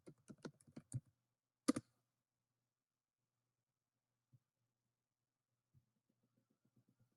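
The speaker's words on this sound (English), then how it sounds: "I'm going to type in secession." A computer keyboard clatters in a quick run of close, crisp keystrokes followed by a single sharp click, then near silence with a few faint taps.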